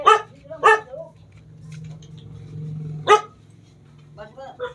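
A dog at a house barks in short bursts, two quick barks, a pause with a low hum, then another bark and a few fainter yips, fairly close.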